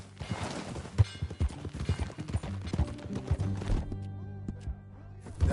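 Horse hooves clip-clop in an uneven rhythm under Red Dead Redemption 2 game music and background effects, moderately loud and close.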